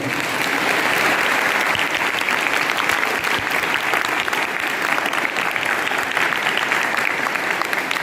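Loud, sustained applause from a school audience at a Jawahar Navodaya Vidyalaya New Year celebration, cheering the students' performance; dense, steady clapping fills the whole stretch without a break.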